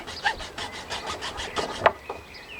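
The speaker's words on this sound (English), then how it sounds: "I haven't got the right tool, but this junior hacksaw should do it" A junior hacksaw cuts a small piece in an allotment garden, giving a short run of rhythmic rasping back-and-forth strokes, fairly close and moderately quiet, with one sharper scrape near the end and no talking.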